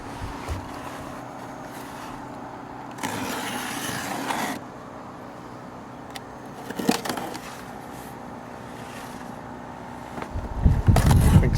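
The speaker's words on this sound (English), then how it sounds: "I think someone's got an air compressor going over there." An air compressor runs nearby outdoors as a steady low mechanical drone, with louder bursts of hiss and rumble rising and falling around it and a heavier surge at the end, no talk heard.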